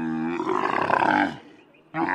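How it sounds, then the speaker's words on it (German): A young camel roars, played as a sound effect: a loud, harmonic bellowing groan that rises into a rough, throaty peak, fades off, then bursts back briefly at the end, with no speech over it. "Da bei uns aber nicht jeder weiß, wie ein Kamel brüllt, gibt es wenigstens den Ton."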